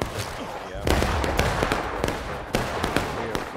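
Musket volleys in the Civil War game War of Rights: a rapid, irregular string of sharp, loud cracks and pops from several rifles nearby, with shouting voices mixed in.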